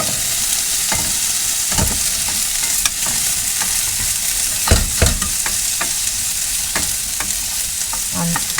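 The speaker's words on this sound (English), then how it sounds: "So, I'm just frying that for the time being." Potatoes for corned beef hash sizzle steadily in a hot pan, a loud, close, continuous fry broken by several sharp scrapes and stirring clicks.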